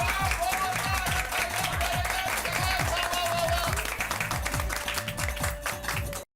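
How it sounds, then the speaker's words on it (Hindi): Audience applause for an uncle in a family comedy scene, a steady wash of clapping laid over a looping, rhythmic music track with a sustained tone, holding at even loudness until it cuts off abruptly. "भाई इस बात पर चाचा जी के लिए जोरदार तालियां हो जाए।"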